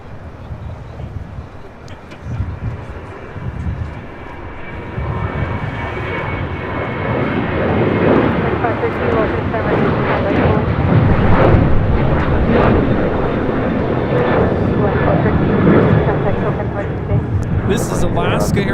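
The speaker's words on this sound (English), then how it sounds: "This is Alaska Airlines 1315 taking off to Portland" An Alaska Airlines jet takes off from LAX bound for Portland, its engines building into a loud, rough, crackling roar that peaks midway and lingers, with people chatting nearby underneath.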